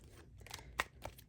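Tarot cards are shuffled in a series of short, soft papery riffles and snaps, close and fairly quiet, with one crisper flick near the middle.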